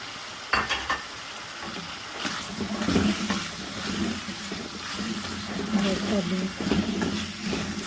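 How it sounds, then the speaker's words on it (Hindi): Kaleji, goat liver, frying in a pan as spices are added, a continuous moderate sizzle with stirring clinks and scrapes, and a sharper knock near the start. "कलेजी को भून लिया। अब इसमें मसाले ऐड कर रहे हैं।"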